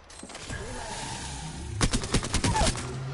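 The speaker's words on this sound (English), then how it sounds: "Taking fire, boss." Video game gunfire in a tactical shooter: a rapid burst of several sharp shots cracks out in the second half, loud and close, after a quieter stretch of ambient game noise.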